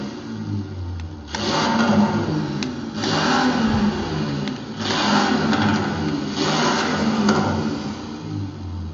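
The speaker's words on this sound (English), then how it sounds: "This is my Corvette, listen to that." A Corvette engine in Forza Horizon 4 revs repeatedly in loud surges, roughly four bursts of acceleration rising over a steady rumbling idle, with no voices.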